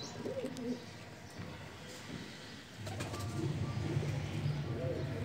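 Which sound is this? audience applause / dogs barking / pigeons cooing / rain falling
pigeons cooing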